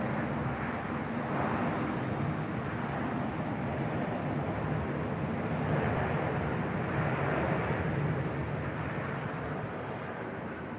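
A heavy airliner takes off from runway 24 left at LAX, a broad, steady roar of jet engines at middle distance, sustained throughout and easing slightly toward the end.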